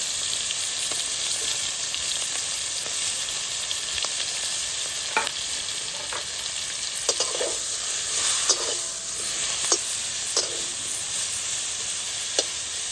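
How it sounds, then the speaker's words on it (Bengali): Prawns frying in a little hot oil, a steady bright sizzle with occasional sharp crackles and pops, close and fairly loud, no voices. "তেলটা আমার গরম হয়ে গেছে আমি এক এক করে মাছগুলো ছেড়ে দেবো"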